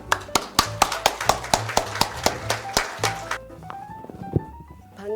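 Audience applause welcomes a landscape architect onto the stage at a garden lecture, a run of distinct, fairly close hand claps in an uneven rhythm that stops abruptly partway through, leaving quieter room sounds and a few knocks.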